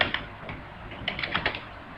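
Keys on a computer keyboard are typed in a quick irregular burst, close and fairly quiet, with several sharp clicks clustered toward the end and no talking.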